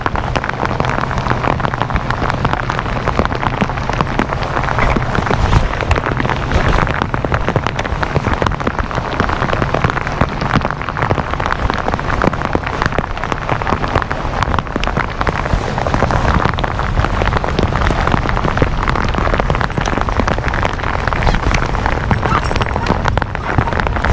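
Steady rain patters over a lake during a bass-fishing outing in grassy water, a dense, even hiss of drops that runs unbroken throughout.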